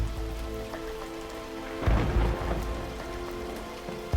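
Rain pours steadily over a peat swamp forest, a dense hiss of drops on surfaces, with a low thunder rumble swelling about halfway through and no voices.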